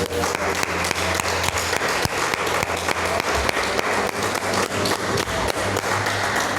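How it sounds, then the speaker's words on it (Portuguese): A Portuguese-speaking church congregation applauds in dense, continuous clapping close by, with occasional louder thumps mixed in. "Pode aplaudir o Senhor por isso."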